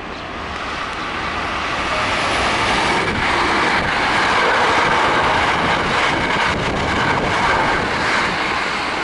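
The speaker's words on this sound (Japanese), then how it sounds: "ただいま電車が通過します。" Hankyu Kyoto Line train passing through Minami-Ibaraki station without stopping, a loud close rushing roar of wheels and cars that builds and holds steady as the train runs by the platform.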